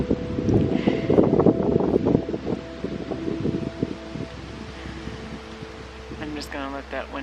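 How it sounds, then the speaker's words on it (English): Gusty outdoor wind rushes and rustles close to the microphone in a forest setting, with a child crying and other voices heard over it, the wind stronger early then easing. "I'm just gonna let that wind go."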